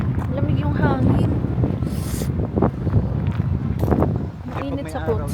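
Gusty wind buffets the microphone outdoors at a tulip festival, a steady low rumble with rising gusts running under ongoing talk from people nearby.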